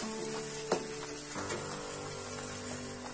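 Tomato masala frying in a pan, a steady soft sizzle with a few faint scrapes of stirring, close and fairly quiet throughout.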